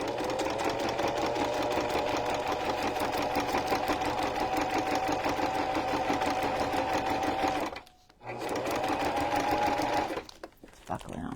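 A sewing machine stitches a junk journal cover made of mixed materials, its rapid, even mechanical whir running steadily, then stopping briefly twice as the needle stays down and the work is turned.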